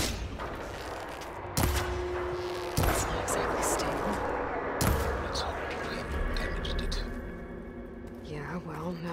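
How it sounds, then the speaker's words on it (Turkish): Shots hit the coupling on a giant spider machine's arm in Horizon Forbidden West: three sharp, loud impacts spaced a second or two apart over a dense, steady bed of game music and ambience. "Maybe I can shoot the coupling on the arm."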